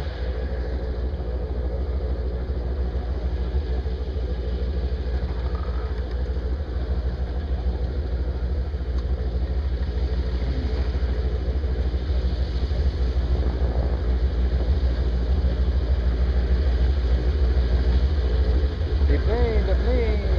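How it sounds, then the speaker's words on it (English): Float plane engine droning steadily as the aircraft comes in to land on a lake, a continuous mid-pitched hum of constant loudness throughout. "Here comes the plane."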